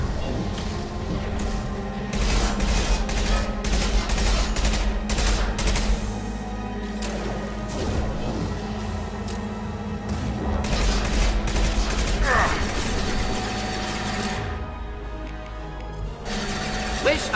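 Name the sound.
heavy gunfire in a video game (Mass Effect 2)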